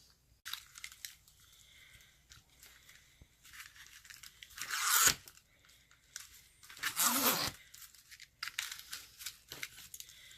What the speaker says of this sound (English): I'm going to curl all these strands up.